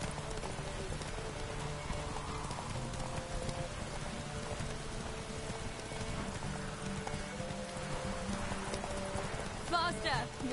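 A horse gallops with rhythmic hoof clip-clops during a horse race in the video game Witcher 3, steady and mid-distance beneath game music and ambience, with a voice speaking over it.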